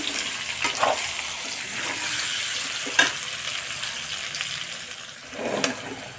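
Mango pickle frying in oil gives off a constant sizzle, broken by a few sharp scrapes and clinks of stirring.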